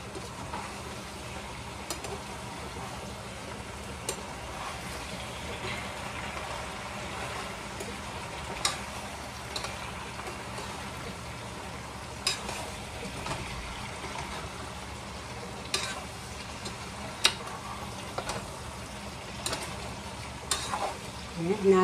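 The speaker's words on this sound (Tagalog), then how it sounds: "Haluin ko." Pinakbet vegetable stew in a pan, with a continuous low sizzle and simmer and scattered small clicks and scrapes of stirring spread through the whole stretch, fairly faint and with no clear speech.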